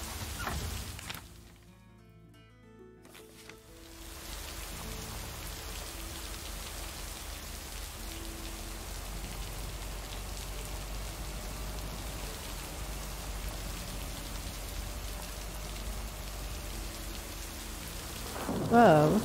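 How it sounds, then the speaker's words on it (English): Heavy rain pours steadily in the video game Lake, a dense continuous wash with low thunder rumbling beneath it, loud and unbroken after a brief quiet opening, with a faint voice near the start. "Oh, such heavy rain."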